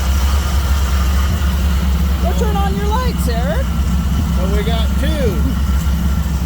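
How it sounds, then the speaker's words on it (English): A 1964 Chevrolet Suburban engine with a points-free distributor conversion idles steadily on an Edelbrock carburetor, a close, continuous low rumble while people talk over it. "running on the same carburetor, and they both just sound sweet as can be"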